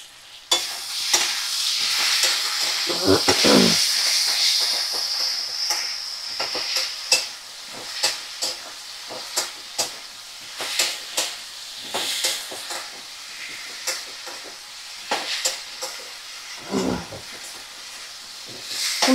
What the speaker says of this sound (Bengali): ভালো করে মশলা কষা হয়ে গেছে